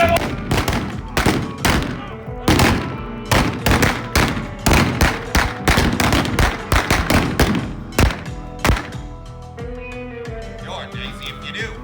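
Blank-fired revolvers and shotguns crack repeatedly in a staged OK Corral gunfight reenactment in Tombstone, Arizona, a rapid irregular volley of loud close shots that tapers off, with brief shouting voices near the end.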